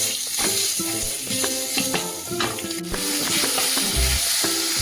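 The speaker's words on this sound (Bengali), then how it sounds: "কড়াইতে অল্প তেল গরম করে তার মধ্যে গোটা গরম মশলা ফোড়নে দিয়ে দেবো তেজপাতা দারচিনি লবঙ্গ এলাচ এবং গোটা জিরা" Whole garam masala (bay leaf, cinnamon, cloves, cardamom and cumin seeds) sizzles in a little hot oil in a wok, a steady close crackle running beneath louder background music.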